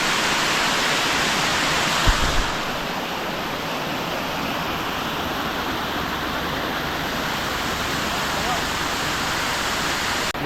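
A waterfall at Goregaon in Raigad roars in a steady, dense rush of falling water. Voices are faintly heard under the constant noise, and a brief thump occurs near the start.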